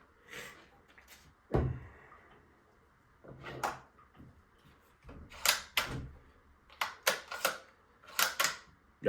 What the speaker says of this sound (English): Let's go ahead and we can throw this bolt in here on top of it too.